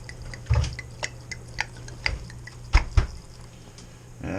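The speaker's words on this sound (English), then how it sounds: "why don't we just fill it up here while I'm here? We'll pour this chocolate in this one." Chocolate mead pours from a bottle into a glass in a short series of soft gurgles and glugs, quiet and close, with a few light clinks and a louder splash near the end.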